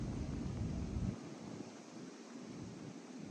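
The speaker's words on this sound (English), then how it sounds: "Not as windy today, but it's still windy enough. I think you can hear it on the microphone." Wind buffeting a microphone outdoors, a broad rumbling rush that is heavier for the first second, then eases into a steady, softer blustery hiss with low gusty bumps.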